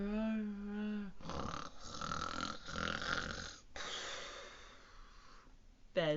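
A storyteller imitates a snoring dinosaur with a voice, giving several long, breathy rasping snores in a row after a short hummed sound, at close range.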